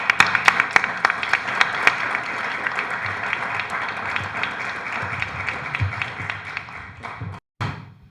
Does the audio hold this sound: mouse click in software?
no